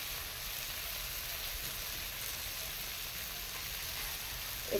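Ground coriander sizzles in hot oil in a pan, making a continuous, even frying hiss close by for several seconds, with a small clatter at the very end and no talk.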